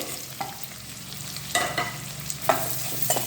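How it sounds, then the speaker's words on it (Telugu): Chopped onions fry in hot oil in a pan for an egg curry, a steady soft sizzle broken by a few clinking stirs of a spatula against the pan, with no talking. "ఈ ఉల్లిపాయలు మంచిగా పచ్చివాసన పోయేదాకా వేగించుకోవాలి"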